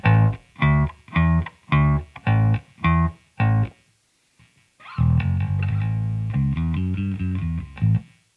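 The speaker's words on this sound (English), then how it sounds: "This is the jazz bass." A Fender Jazz Bass through a Ramble FX Marvel Drive overdrive pedal plays a run of short, punchy distorted notes, pauses briefly, then continues with a sustained gritty line.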